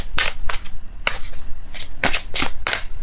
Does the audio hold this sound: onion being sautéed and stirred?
no